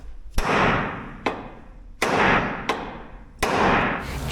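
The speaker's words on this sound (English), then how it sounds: "The easiest way I've found is just give it a little tap, tap, tap with the hammer" A hammer tapping a rubber ball joint boot into place during a 3-link suspension install, five sharp metallic taps at uneven intervals, each followed by a ringing decay, close and fairly loud with no talk.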